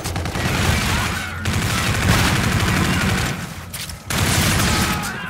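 Rapid gunfire in the video game Call of Duty Infinite Warfare, loud sustained bursts with two short pauses, close and dense, without talk.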